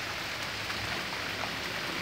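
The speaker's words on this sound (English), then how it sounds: "just pouring rain." Pouring rain falls outdoors as a dense, even hiss of drops hitting surfaces, steady and fairly quiet throughout the short stretch, with no voices.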